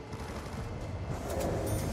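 Gunfire from a pistol shooting zombies in The Walking Dead video game, a quick run of faint, muffled shots with a dull, rumbling background.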